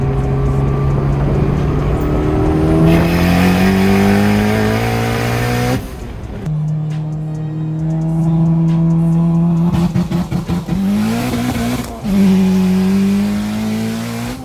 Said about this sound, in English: these cars make some nice turbo noises